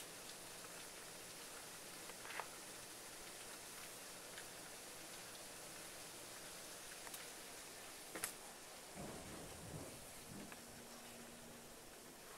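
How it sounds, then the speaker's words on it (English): Steady rain falls outside on a dark, nasty day, a dense even hiss of drops with occasional louder ticks and patters, continuous and moderately faint throughout. "It's pretty dark outside, nasty rain."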